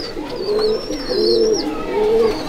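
Pigeons cooing in a pigeon loft, three steady rounds of low, throaty, rolling coos close by, with a thin higher call drifting above them.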